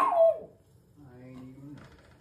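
Dogs in a house whine and yip up close: a falling cry at the start, then a higher drawn-out whimper, with a voice talking nearby.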